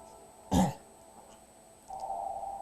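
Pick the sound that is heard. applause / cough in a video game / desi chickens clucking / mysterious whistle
cough in a video game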